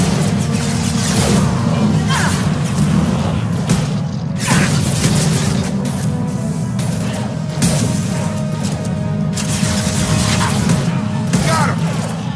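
Loud, dense Mass Effect 2 combat with heavy booming hand cannon gunshots and crashing impacts continuing throughout, over a constant low rumble.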